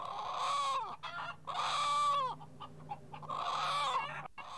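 A hen that lays blue eggs clucks and cackles loudly up close in three long, drawn-out bursts with brief pauses between them, and no one talks over her.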